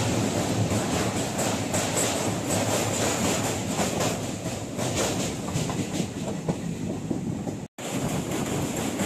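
The Kanchan Kanya Express runs through the Dooars toward Alipurduar, producing a loud, continuous rumble with rhythmic clickety-clack from the rails, heard close from on board with some wind.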